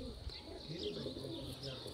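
Sialkoti pigeon cooing softly in a steady, low murmur, with faint chirps from other birds mixed in and a quiet background throughout.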